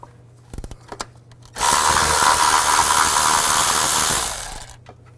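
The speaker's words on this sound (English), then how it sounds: "use a 12mm socket to take this bolt out" Power tool spinning a 12mm socket to remove a bolt on a Nissan Xterra during ignition coil work, a few light clicks and then a loud steady whirring run of about three seconds that tapers off.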